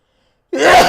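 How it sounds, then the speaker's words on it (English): A single loud, close human sneeze bursts out suddenly after half a second of silence. "So I need to sneeze."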